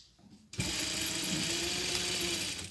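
A sewing machine starts abruptly and runs steadily, stitching a Hawaiian shirt collar with a continuous close whirring hum after a brief quiet moment.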